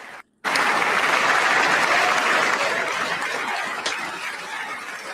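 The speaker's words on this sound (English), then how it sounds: "They got a long ass clapping." Sustained applause from a large audience at a State of the Union address, loud and dense from the start after a brief silence, continuing steadily and fading slightly toward the end.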